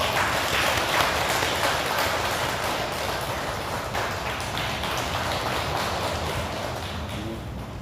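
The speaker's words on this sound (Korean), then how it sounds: "큰 박수를 쳐주시기 바랍니다" Congregants at a Korean Buddhist dharma assembly at a temple in Danyang applaud to welcome a guest, steady full-room clapping that runs evenly for nearly eight seconds without speech.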